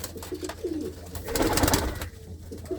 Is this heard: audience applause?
no